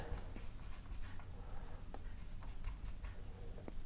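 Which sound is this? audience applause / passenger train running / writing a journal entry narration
writing a journal entry narration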